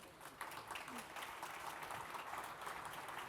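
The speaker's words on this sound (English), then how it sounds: "Please give an applause to Glenn." Audience applause at a panel conversation event, a steady wash of many hands clapping at moderate distance that holds evenly for a few seconds with no talk over it.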